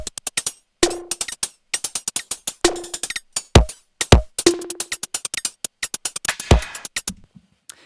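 Drum loop processed with distortion, companding and a transient shaper, made of punchy, crisp hits with tight snappy attacks and occasional booming low kicks, loud and up close in a choppy groove with brief gaps.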